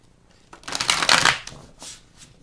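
Tarot cards being shuffled, a riffling flurry that swells to a loud peak in the middle and then trails off into a few softer flicks.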